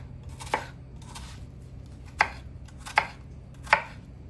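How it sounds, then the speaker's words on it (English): A knife dices an onion on a cutting board with four crisp, separate chops spaced about a second apart, close and clear over a soft background hum. "We're going to start by dicing up our onion."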